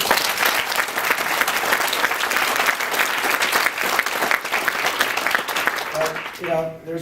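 A crowd claps steadily for several seconds, dense and loud, before it tapers off and a voice begins.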